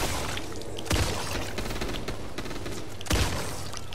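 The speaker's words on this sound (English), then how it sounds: "Wait, I want to shoot my gun sideways." Gunfire in the zombie shooter Back 4 Blood comes as a steady, dense crackle of rapid shots, with two heavier bursts standing out above it.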